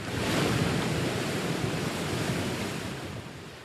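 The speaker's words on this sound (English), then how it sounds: "The fierce sea broke harshly in the day" Sea waves break harshly in a steady, full roar of surf, loud and continuous, with a wind-like wash, used as a radio drama sound effect with no voices over it.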